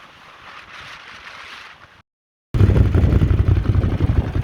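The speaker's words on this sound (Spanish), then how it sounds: "Vamos a probar los sonidos con los modos de manejo de una Ducati Monster 821." A Ducati Monster 821 motorcycle engine, heard first as a low steady hum, then after a short silence as a much louder, close, rough running rumble.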